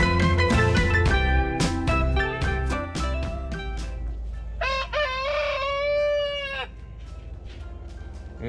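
A fighting rooster in a chicken pen on a country farm crows loudly and close by, a long drawn-out call following earlier clucks and squawks over a steady low hum.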